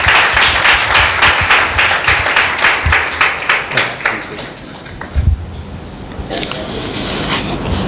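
A church congregation claps loudly and steadily in welcome for a speaker, a dense burst of applause that thins out and fades into scattered claps and room noise.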